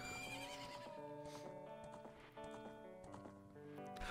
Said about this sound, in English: Speaking of horses, hello, horses.